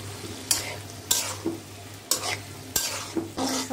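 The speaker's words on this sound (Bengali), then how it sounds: "এখন আমি এই যে কলিজাগুলো দিয়ে দেবো।" Chicken liver fries with potatoes in a pan, a soft sizzle broken by several sharp scraping stirs of a spatula at irregular intervals, close and alone without speech.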